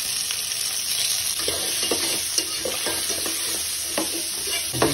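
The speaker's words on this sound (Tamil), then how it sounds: "நம்ம போட்டு ஒரு நிமிஷம் நல்லா வதக்கி கொடுத்துடும்." Small sambar onions sautéing in a pan with salt, a steady soft sizzle broken by scattered clicks and scrapes of stirring, close and fairly quiet, no talking.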